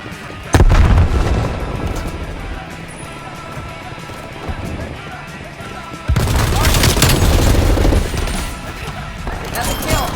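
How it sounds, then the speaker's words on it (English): A frag grenade detonates in Call of Duty: Black Ops Cold War. A loud booming blast is followed by steady gunfire, and a second heavy burst of explosive noise comes midway through. "Throwing frag grenade."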